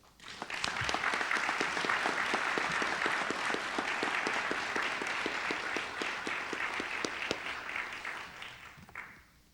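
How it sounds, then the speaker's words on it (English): Applause at a Marshfield special town meeting: a crowd claps steadily and fairly loudly for about nine seconds with no talking, then the clapping fades out quickly. "I'd like to ask for a round of applause for Bridget Boyd."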